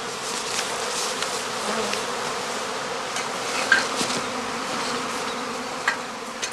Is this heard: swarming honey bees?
yes